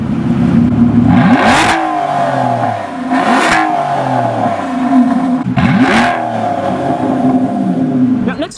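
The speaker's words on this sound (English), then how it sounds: "This car has quite an impressive exhaust note," An Aston Martin V12 Vantage S, a manual supercar, revs its V12 hard three times, each blip rising sharply then falling with loud exhaust crackle, close and loud over a steady idle.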